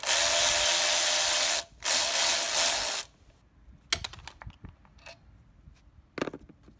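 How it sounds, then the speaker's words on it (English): Ratcheting wrench spinning out intake bolts on a Mercedes-Benz SLK320 engine: two loud, steady bursts of rapid ratcheting with a short break, then scattered light clicks and metal clinks. "I'm going to use my ratcheting wrench so I can get it in there and zoom out pretty quick."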